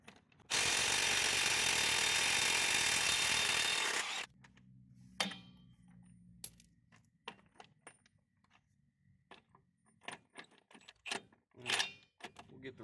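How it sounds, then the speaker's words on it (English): An impact wrench loosens stuck lug nuts on a semi truck wheel, a loud, sustained rattling burst of about three and a half seconds, followed by scattered metallic clanks and clinks of tools and nuts. "I have no question in my mind this impact will get these lug nuts off."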